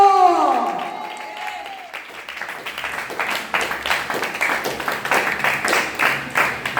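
A church congregation claps for Jesus during a Telugu Sunday service: rhythmic, steady group clapping building after a fading musical tone, fairly close and continuous.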